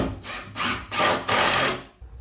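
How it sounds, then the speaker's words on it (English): Four quick bursts of a power nailer driving fasteners into ripped plywood sheets while framing a built-in bunk bed, each shot sharp and close with short gaps between. "So now we're just nailing on the plywood that we ripped."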